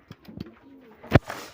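Lakka fantail pigeons cooing close by, a few soft throaty coos followed by one louder burst, with no talk.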